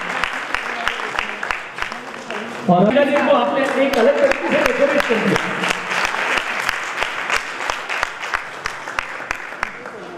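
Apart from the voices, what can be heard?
audience applause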